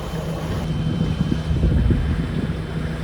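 A Dufour 530 sailing yacht motors under engine into a headwind, giving a steady low engine drone with a faint hum, mixed with wind buffeting and rushing water throughout.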